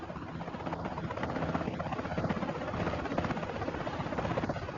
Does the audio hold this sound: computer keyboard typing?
no